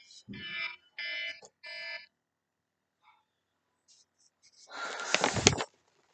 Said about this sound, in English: Sorry, my alarm is going off.